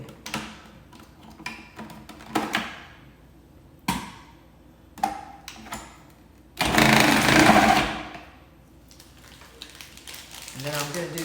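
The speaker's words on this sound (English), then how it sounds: "I'm just going to grate it in my food processor really quickly" Extra sharp Cabot white cheddar being grated in a food processor, a loud sustained whir of about a second amid softer clatter and handling noises, with a voice speaking around it.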